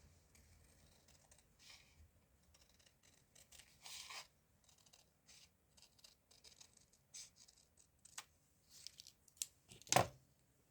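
Scissors cut paper for a journal-page tag, up close in short irregular snips with quiet gaps between, ending in one sharper louder snip; no one speaks.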